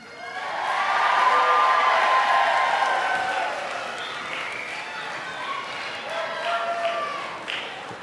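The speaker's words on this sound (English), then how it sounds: "Give a big wave and a cheer to the grad you came here to celebrate" Graduation ceremony audience cheering and waving for the graduates, a broad swell of crowd noise and applause that peaks early, then eases into a steady murmur with scattered shouts.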